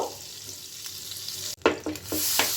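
Butter melting into white cooking oil in a pan gives a steady close sizzle, with a few brief clattering stirs partway through and a louder hiss toward the end.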